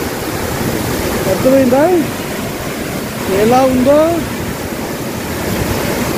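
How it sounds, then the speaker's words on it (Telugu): Waterfall near Cherrapunji in Meghalaya, a loud, steady rushing roar of falling water filling the whole clip, with someone speaking briefly over it. "అర్థం కాని వాటర్ ఫాల్ చూడండి"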